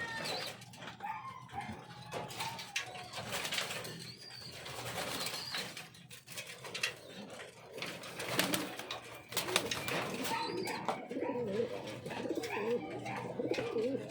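Pigeons cooing in soft, repeated murmuring phrases around a bird enclosure, mixed with faint clucking fowl and busy ambient rustle, fairly close but not loud, without clear talk.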